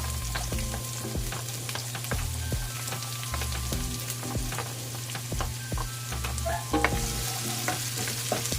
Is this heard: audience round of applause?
no